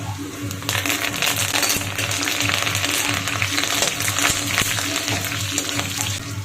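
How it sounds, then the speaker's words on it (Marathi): Crushed garlic, cumin, mustard seeds and dried curry leaves frying in hot oil in a pan with the gas off, giving a steady close crackle and sizzle with scattered sharp pops. "लसूण चांगला कडक होईपर्यंत त्या गरम तेलात परतून घ्यायचा"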